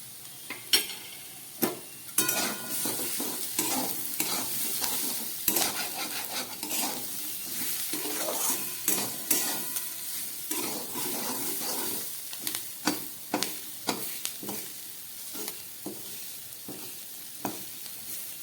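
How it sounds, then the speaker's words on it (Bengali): Potatoes and onions sizzling in oil in a pan, with a steady frying hiss and repeated close scrapes and clinks of a spoon stirring against the metal. "আলু, পেঁয়াজটাকে আমি প্রায় 2-3 মিনিটের মতো ভালো করে ভেজে নিলাম।"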